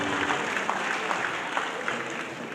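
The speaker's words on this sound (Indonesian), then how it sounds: "Kita beri tepuk tangan untuk semuanya." An audience at an Indonesian community family-sharing gathering applauds, a dense, steady patter of many hands at moderate loudness with no talk over it.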